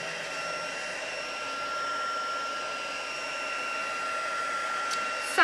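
Steady whirring blow of a heat gun held close, pushing and drying ink on a handmade card, a constant moderate hum with a faint tonal whine running throughout and no speech.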